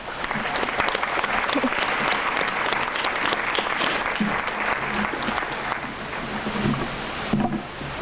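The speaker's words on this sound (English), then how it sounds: "giving all of the students here today a big round of applause" Sustained audience applause for students at the 2015 Louisiana STEM Expo, a dense steady clatter of many hands filling the hall for about eight seconds, with a slight swell near the end.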